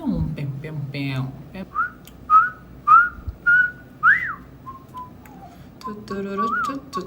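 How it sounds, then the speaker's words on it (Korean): A person whistles a tune in short, clear, sliding notes, close and fairly loud, one after another. A few brief voice sounds come at the start and end. "제가 휘파람을 초등학생 때부터 연습을 했어요"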